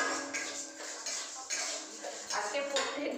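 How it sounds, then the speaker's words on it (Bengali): Moong dal dry-roasting in a pan, stirred so the lentils rattle and scrape against the metal in a steady, close, moderately loud wash with uneven surges. "মুগের ডালটা ভালো করে ভেজে নেব।"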